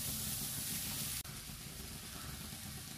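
Ground green pea paste goes into a hot pan for a thoran and sizzles as a steady, soft frying hiss. A brief dip marks the moment it is added, and the sizzling carries on quietly with no talk.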